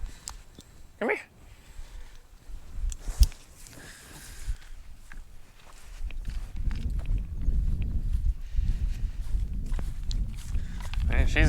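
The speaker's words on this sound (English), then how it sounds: "That's an excited cow right there." An excited milk cow steps about on a farm, hooves thudding and clopping irregularly, growing heavier and busier in the second half, with people talking and commands to a dog over it.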